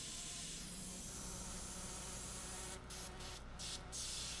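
An airbrush sprays paint onto a model tank, a steady close hiss of air that stops and restarts in several short trigger bursts near the end.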